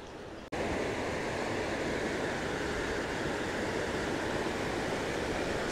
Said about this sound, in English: Through a nice rapids area. Lots of rocks.